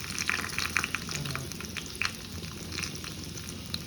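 Mustard seeds and dried red chillies fry in hot oil, a dense, steady crackling sizzle with small pops scattered throughout, close and continuous.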